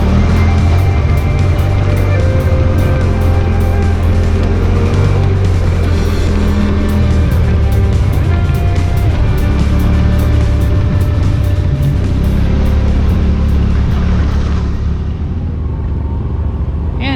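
A Yamaha Rmax 1000 side-by-side runs at a brisk pace along a dirt trail, its engine drone loud and close throughout with constant low rumble, easing slightly near the end.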